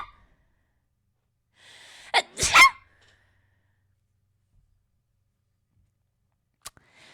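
A cartoonish sneeze effect from the Phoenix Wright: Ace Attorney video game: a short breathy intake followed by two sharp bursts close together, then a faint click near the end, with no talk.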